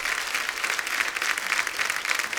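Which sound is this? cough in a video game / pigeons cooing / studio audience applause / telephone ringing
studio audience applause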